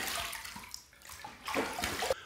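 Razor rinsed under running tap water during a wet shave, a steady splashing gush that swells louder toward the end with brief sloshing bursts, no voices.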